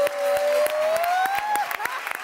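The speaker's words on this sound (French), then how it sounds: "je vais me lever et je vais t'applaudir encore." Studio audience on a French TV talk show applauding a star guest, with a broad steady wash of clapping and crowd noise throughout, plus a rising whoop or vocal tone and a few sharp claps standing out.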